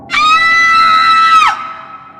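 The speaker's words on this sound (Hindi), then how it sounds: "रानी जोर से चीखी।" Woman's loud, high-pitched scream as a horror sound effect, one sustained shriek held for over a second before dropping sharply in pitch and cutting off, close and alone.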